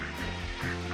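Ducks at a free-range farm give a few close, nasal quacks in quick succession over a dense background.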